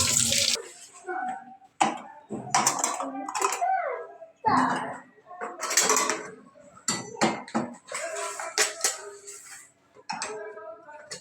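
Vegetables are rinsed under running water, with bursts of splashing and pouring broken by clatters of metal pots and utensils nearby.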